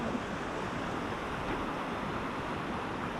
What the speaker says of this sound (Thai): ดูสิ น้ำไหลเชี่ยวมากเลย